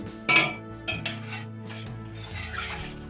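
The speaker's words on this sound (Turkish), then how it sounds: "aktif mayamızı içerisine ekliyoruz ve iyice karıştırıyoruz" A spoon stirs active yogurt starter into warm milk in a pot for homemade prebiotic yogurt, with a sharp metallic clink early on, then softer scraping and stirring strokes close by, no talking.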